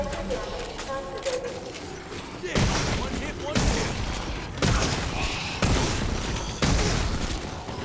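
Loud, close gunfire from a weapon in Call of Duty Advanced Warfare, with four or five heavy booming shots or bursts at roughly one-second intervals over game background noise.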